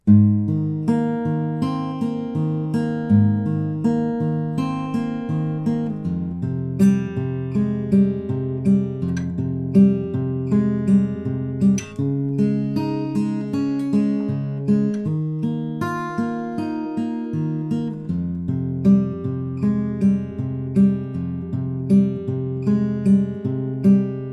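A guitar plays a repeating picked riff, clear and close, with a steady rhythm and ringing notes cycling through chord shapes.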